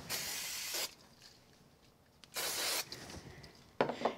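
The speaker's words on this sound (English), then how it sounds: "I'm just going to use a little bit of spray glue on the back of it." Three short hissing bursts from an aerosol can of spray glue, each lasting under a second, separated by quiet pauses, close by.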